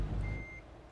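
A truck in Euro Truck Simulator 2 gives a single clear reversing beep over its low, rumbling idling engine.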